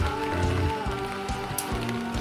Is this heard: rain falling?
yes